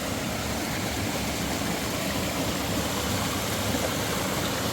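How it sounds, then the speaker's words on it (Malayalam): A small forest stream with a waterfall near Agumbe, a dense, steady rush of flowing water that is loud and close, running without pause. "ചെറിയ തോട് വെള്ളച്ചാട്ടം ഉണ്ടായ ഒരു തോട്"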